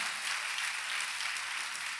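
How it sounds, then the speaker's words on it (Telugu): Church congregation clapping hard during a pastor's sermon: a continuous, bright patter of many hands, fairly distant and even, running unbroken with no voices on top. "గట్టిగా చప్పలు కొట్టండి,"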